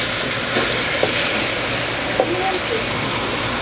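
Chicken curry with a splash of fish sauce stirred in a pan, a continuous fairly loud sizzle with a few light scrapes of the spoon.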